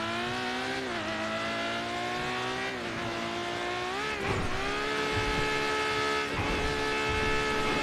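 A very fast car in GTA RP on NoPixel 4.0 revs hard, its engine note climbing and dropping through gear shifts, loud and alone, with a couple of sharp bursts as it surges.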